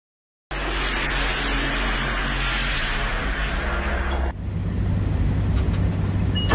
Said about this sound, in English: Powerful winds tore apart the shelter in seconds.